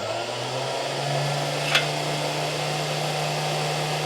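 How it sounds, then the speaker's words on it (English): A reverse vacuum blows air into a classroom air track that floats the cars, making a steady, fairly loud drone with a low hum and a brief click partway through. Nobody speaks. "when I turn on a reverse vacuum, it shoots air in there and then it keeps these cars kind of floating."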